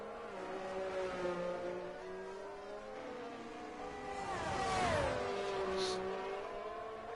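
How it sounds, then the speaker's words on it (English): McLaren race car in F1 22 at the British Grand Prix, a high engine whine climbing and dropping through gear changes with a louder pass mid-clip, heard alone without talk. "So, Marnix in the McLaren."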